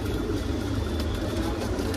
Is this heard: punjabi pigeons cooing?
yes